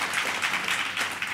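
Brief burst of clapping from delegates at a Congress of the People party congress, a short dense round of many hands.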